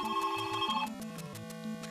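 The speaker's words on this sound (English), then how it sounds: "Oh, I'm getting a phone call." An incoming call announced by a melodic phone ringtone, repeating tonal notes played clearly and alone at moderate level.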